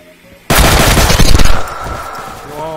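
Loud burst of automatic gunfire in Garry's Mod erupts suddenly after a quiet moment, a dense rapid volley lasting about a second before tapering into ringing echoes and lighter background game noise.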